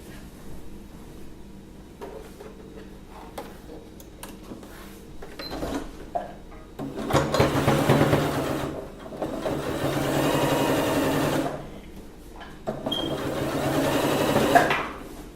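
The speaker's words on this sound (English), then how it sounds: "We'll start from one end of the band, and then we sew it down and cover it nicely." A sewing machine stitches down the waistband of a wrap skirt, whirring in several close, steady bursts of a few seconds each, separated by quiet pauses with small handling clicks.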